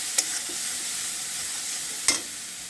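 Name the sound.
spice masala sautéing in a pan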